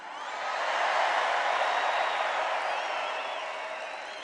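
A large crowd at a Kari Lake rally in Arizona, packed up to the rafters of an indoor venue, roars and cheers in a steady, loud wash that swells early and holds for several seconds, with no clear speech.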